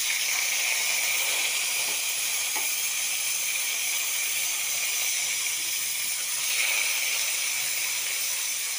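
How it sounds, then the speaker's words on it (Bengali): Pressure cooker whistle during cooking: a steady, loud hissing rush of escaping steam that continues throughout without breaks, swelling slightly near the end, with no talking over it. "সিটি পড়ছে"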